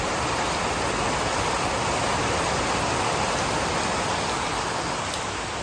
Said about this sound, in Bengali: ভোর থেকে বৃষ্টি হচ্ছে আজকে মুষলধারে বৃষ্টি জানালার কাছে বসে বৃষ্টির সাউন্ড শুনতেছি